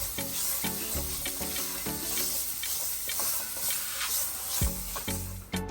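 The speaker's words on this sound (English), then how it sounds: "Stir it up." Ginger, garlic, shallots and green onion stirred in a hot pan for a Thai coconut curry, giving a steady close sizzle with repeated scraping stir strokes throughout.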